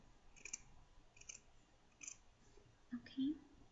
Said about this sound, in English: So I just place it and I'm cutting around.